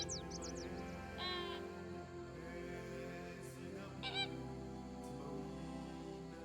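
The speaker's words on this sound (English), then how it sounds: "Is that the noise a flamingo makes?" Honking flamingo calls in a zoo-building video game, a few short goose-like squawks over steady background game music, moderately clear but not loud.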